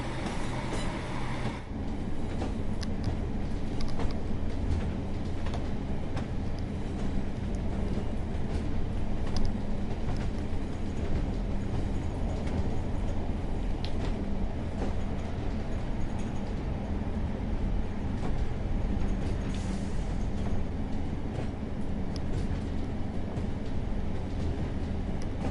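A slow train pulling into Kirkham and Wesham station in Train Sim World 5, a steady low rumble of wheels and traction running without a break throughout, with no talk over it.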